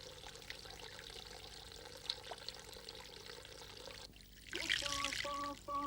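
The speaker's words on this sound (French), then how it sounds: "Une douche est indispensable avant la séance." Shower water pours in a steady, close wash before an ayahuasca ceremony, with a brighter splashing burst near the end and a few faint tonal chirps over it.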